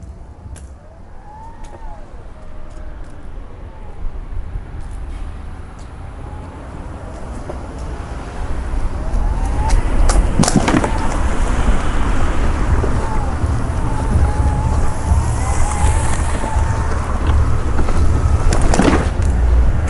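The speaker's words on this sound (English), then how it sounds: "In the noise you hear, there's a bunch of acorns on the ground here." A Permobil M5 power wheelchair rolls outdoors across ground littered with acorns. A steady low motor and wind rumble runs throughout, with scattered sharp crackles and pops as shells crunch under the wheels, growing louder partway through.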